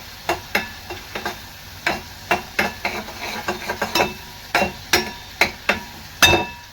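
Paneer masala with onion garlic masala and salt being stirred in a pan, a brisk run of sharp metallic spoon clinks and taps repeating at an uneven rhythm over a faint sizzle.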